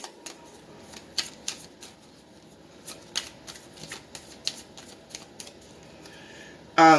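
Tarot cards being shuffled by hand, a steady run of crisp riffling flicks and soft slaps with a brief louder rustle near the end, close and alone without talk.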